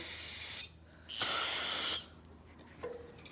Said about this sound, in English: Just spray it in there real quick.